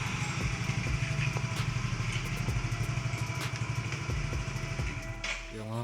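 A 2013 Yamaha Mio motorcycle engine, in smooth running condition, idles close by with a steady low chugging rhythm. Faint ticking runs through it and a brief higher whir comes near the end.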